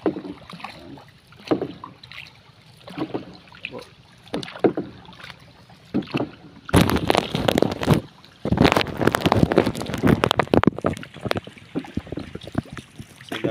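A wooden bangka is paddled by hand on open water while harvesting shellfish, with rhythmic splashing paddle strokes and gusts of wind buffeting the microphone that grow louder midway.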